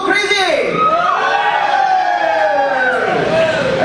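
Stand-up comedy crowd shouting and whooping on cue, a loud sustained roar of many voices with long sliding yells throughout.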